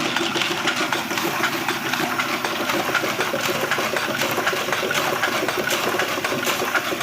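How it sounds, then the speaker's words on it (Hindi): A dakat printing machine running off brochures and wedding cards gives a steady, dense mechanical clatter with a fast repetitive rhythm, continuous and close for the whole stretch, with no talk over it. "ये जी इस तरह प्रिंट होते हैं, आप देख लें।"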